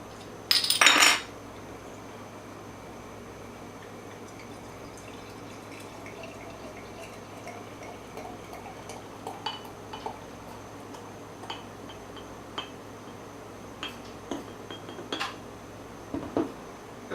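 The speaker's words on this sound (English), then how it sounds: "let's get this cracked open, get it into a glass, see what it's all about" A bottle of Roosevelt barleywine, a Cigar City and Swamp Head collaboration, is cracked open with a sharp hiss and then poured into a glass, leaving faint gurgles, drips and small glassy clinks, quiet and close.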